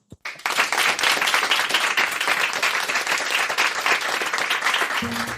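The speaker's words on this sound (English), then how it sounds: "give a round of applause for all of our policy" Sustained applause from a crowd, steady and fairly loud, starting abruptly and continuing to the end.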